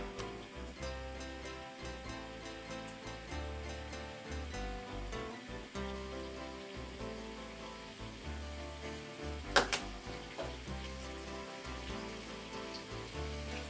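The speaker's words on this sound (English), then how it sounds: "I'm just going to brown them up." Chicken thighs sizzle steadily as they brown in a pan, a constant crackling fry with a few louder pops and thuds of handling partway through.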